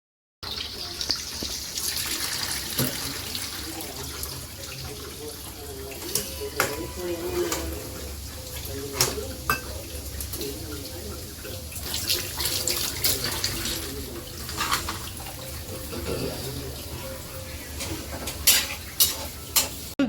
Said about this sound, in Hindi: इसको थोड़ा सा पानी के नीचे डाल दीजिएगा जिससे कि ये अच्छे से स्टेन हो जाए